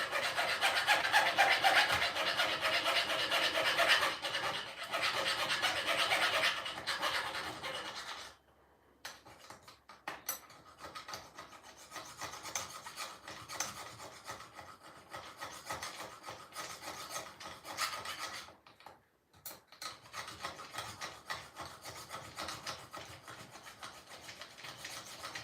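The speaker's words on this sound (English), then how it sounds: "Filing on this bad boy." A hand file works a part on a two-speed project, with repeated close rasping strokes, loud and dense at first, then choppier and quieter with brief pauses near ten and nineteen seconds.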